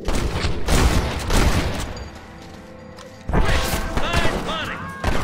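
Gunfire in the Western video game Red Dead Redemption, with loud bursts and crashes of shots clustering in two dense volleys separated by a quieter lull, over game sound and a faint voice.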